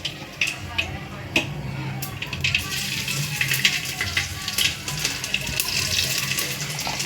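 Garlic frying in hot oil already holding mustard and cumin seeds, a steady crackling sizzle that builds and holds throughout, with someone speaking over it.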